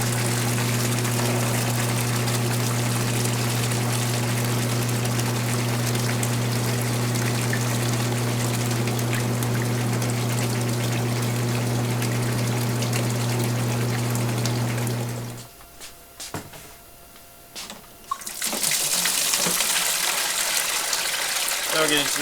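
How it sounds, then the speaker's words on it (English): Water gushing steadily through an SLX400E machine as it is flushed during cleaning, with a constant motor hum beneath it. The flow cuts out for a few seconds near the end and then surges back. "we're just going to keep letting water flush through this system until we get clean liquid coming out of the machine"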